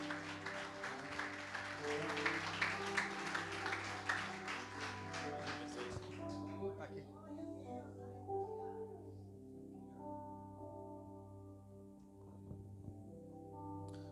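Church congregation applauding during an evening worship service, broad clapping mixed with music and a few voices, fading into sustained musical tones after about six seconds.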